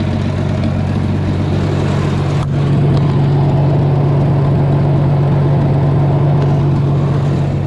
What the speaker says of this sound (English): there's no muffler on this thing. That's straight pipe.